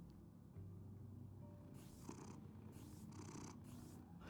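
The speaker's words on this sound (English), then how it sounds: "It's a cat." A cat purring in the Batman: The Telltale Series video game, a low steady rumbling purr throughout with faint higher breathy bursts layered on top, close and quiet.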